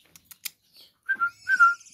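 A young lineated barbet, a forest fledgling kept as a pet, gives a few soft high whistled calls, starting with faint short notes and ending in two louder drawn-out whistles, close by with no talk.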